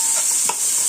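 Tomatoes hit a hot pan and are stirred, giving a steady bright sizzle with a soft scraping stir and a brief louder rustle in the middle.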